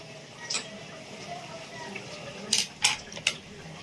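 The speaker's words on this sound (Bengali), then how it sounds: "তো কেমন হয়েছে আমি একটা কেটে দেখাচ্ছি" A fish roe fritter wrapped in pumpkin leaf is cut on a plate, giving a few sharp, close clicks and scrapes of a utensil, with three quick strikes near the end against quiet room noise.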